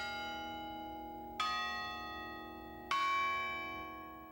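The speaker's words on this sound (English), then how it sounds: "These bells ring every half hour on campus." Washburn University campus bells ring out with two strong, resonant strikes a second and a half apart, each leaving a long, rich humming decay that sustains underneath.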